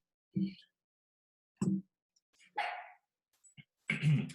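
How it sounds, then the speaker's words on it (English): A dog barks several times in short, irregular bursts, with a higher yelp or whine between them, fairly close in an otherwise quiet room. "I'm sorry about my dogs right now, they're a little bit annoying"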